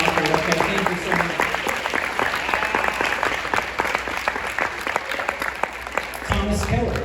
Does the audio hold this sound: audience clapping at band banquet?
yes